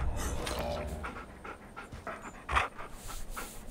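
Heavy, rhythmic dog-like panting from an animal in the video game Far Cry Primal, a steady run of breathy puffs up close with no talk over it.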